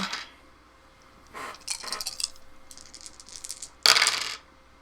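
A handful of dice rolled for a tabletop role-playing game, clattering and rattling across a hard surface in several bursts, with a loud final tumble near the end and no talking over it.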